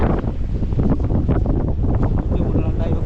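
Strong seaside wind batters the microphone in loud continuous gusts and roaring buffets for a few seconds, with no distinct voices above it.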